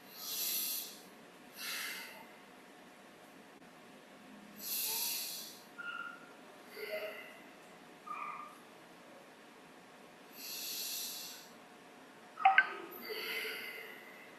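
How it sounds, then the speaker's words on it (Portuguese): Slow, deep breaths during a guided Taoist breathing exercise in an online session, a series of soft airy inhales and exhales spaced a few seconds apart over a quiet background, one with a brief sharper snort near the end. "Nós vamos respirar 3 vezes, uma respiração profunda."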